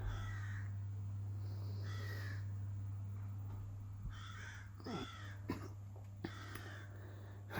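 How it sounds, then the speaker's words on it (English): A crow caws several times, moderately close, in separate harsh calls over a steady low hum and faint background noise. "Sorry, I got a crow."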